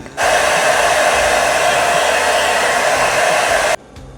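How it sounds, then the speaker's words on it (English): A hair dryer drying paint on a parrot painting blows steadily at close range with a loud, even whoosh for several seconds, then switches off abruptly. "now I've hair dried"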